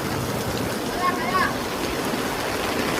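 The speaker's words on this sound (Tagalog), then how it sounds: "Yung kalsada naging dagat na" Floodwater covering a road in Valenzuela, a continuous broad rushing wash of water close by, steady for the whole stretch.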